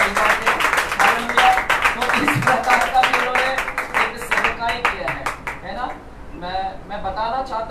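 Church congregation clapping loudly in a dense, rapid burst of many hands that thins out toward the end, with voices mixed in.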